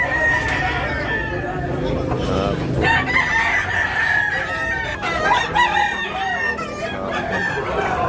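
White hatch gamecock crowing repeatedly at an outdoor market stall in Tabunok, Talisay, Cebu, loud and close, with other roosters answering and crowd chatter underneath.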